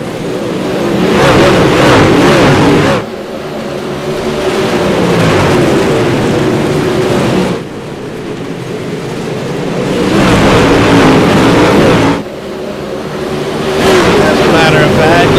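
UMP modified dirt-track race cars roaring past in loud waves, engines surging and fading in three long passes, with a commentator talking over the racing.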